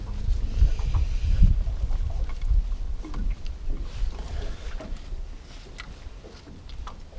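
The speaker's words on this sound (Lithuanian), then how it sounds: "Vėjas stiprus" Strong wind buffets the microphone on a small fishing boat on open water, with low rumbling gusts rising and falling continuously and no talk.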